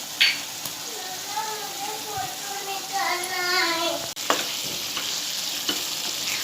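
Mutton liver sizzling steadily in a pan as garam masala is stirred through it, broadband frying hiss with occasional spoon scrapes and a brief soft voice in the middle.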